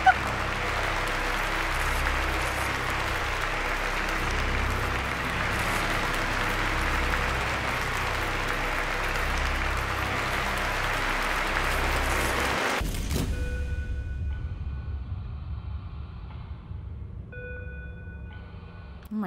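Crowd applause in the video game Virginia, a sustained dense clapping that holds steadily for about thirteen seconds before cutting off abruptly, leaving faint tones.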